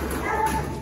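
A dog yips and barks briefly in a noisy space, the sound close by and fairly loud against a busy background.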